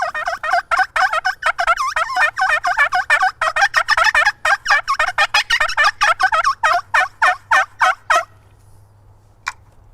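Wild turkey gobbler calling in the open, a rapid rattling run of loud, close gobble-like bursts lasting several seconds, then breaking off with one short faint note afterward.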